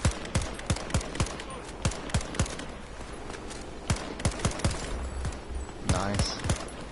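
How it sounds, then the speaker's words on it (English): Rapid bursts of gunfire in the Battlefield 2042 Hazard Zone game, sharp repeated shots in uneven volleys with quieter gaps between them, mixed with game ambience and occasional talk. "Shooting."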